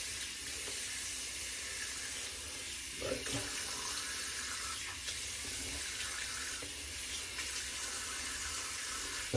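Tap water runs steadily into a sink while shaving lather is rinsed off a face, a continuous close hiss and splash with brief bursts of splashing partway through and no speech.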